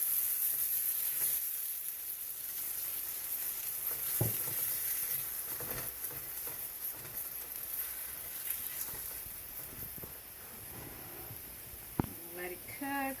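A chapati cooks in a hot pan with a steady, soft sizzle throughout, close and continuous, with a few light scrapes and taps along the way.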